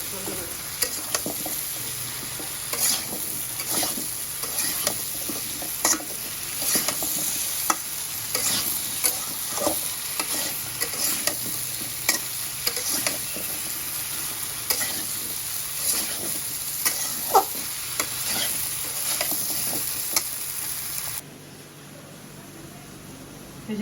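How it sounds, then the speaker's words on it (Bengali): Chopped bottle gourd stirred and sautéed in spice masala in a pan, a continuous sizzle broken by repeated scraping strokes of a spoon, close and steady, ending in a quieter hiss. "এখন লাউটা দিয়ে দেবো ভালো মতো কষায় করে"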